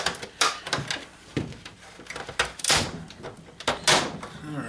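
A steel chisel prying apart the plastic casing of an Xbox 360 being scrapped gives off a run of sharp cracks and snaps, with several loud pops of plastic giving way amid scraping and handling noise.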